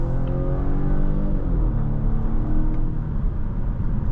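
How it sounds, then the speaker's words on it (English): A 2025 Volvo V60 Cross Country B5 Ultra at full throttle gives a loud cabin engine note whose harmonics climb steadily, then settle into a lower drone after a shift, over constant road rumble. "so let's just hit the throttle"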